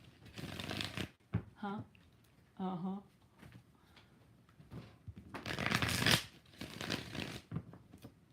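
Tarot cards shuffled by hand in rapid papery bursts, loud and close, alternating with brief murmured interjections from a voice.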